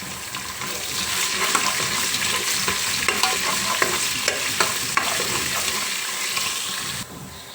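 Crushed garlic cloves sizzle and crackle in hot oil in a pan for head curry, a steady bright frying hiss with small pops and stirring clicks, close and continuous, ending abruptly.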